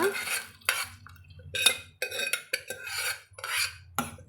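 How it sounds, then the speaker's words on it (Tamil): A spoon scrapes and stirs chopped bottle gourd into lentils in a metal pan, in short repeated strokes with brief pauses, close and clear with no talking. "சேர்த்துட்டு நல்லா கலந்து விட்டுக்கலாங்க"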